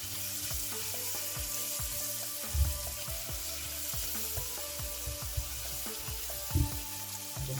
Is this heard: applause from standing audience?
no